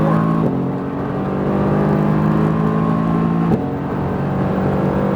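Mercedes-AMG GT R engine on a racetrack lap, a loud, close, sustained drone with steady harmonic tone that shifts and steps up as the car accelerates, briefly dipping before climbing again.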